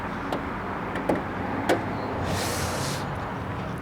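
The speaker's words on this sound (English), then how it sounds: "Let me pop the hood here, show you guys how the hood is." The hood of a Honda S2000 is popped open: a few sharp latch clicks, then a brief rushing, scraping swell as the panel lifts, over a steady background hum.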